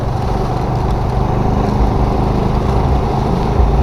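A Honda XRM 125 motorcycle engine that stalled and has a weak kick start, heard close up as a loud, low, uneven chugging putter that continues steadily throughout.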